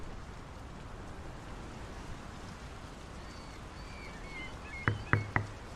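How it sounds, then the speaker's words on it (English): Steady rain falls across a quiet outdoor scene in the game Draugen, a soft continuous wash throughout, with three sharp knocks near the end. "The rain's picking up."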